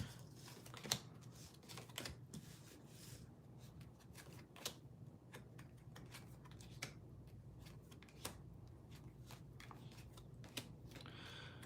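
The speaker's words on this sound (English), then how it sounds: "that's how many times I shuffle my cards" Tarot cards are shuffled close at hand in a quiet room, a run of soft irregular riffles and taps repeating over several seconds with a faint background hum.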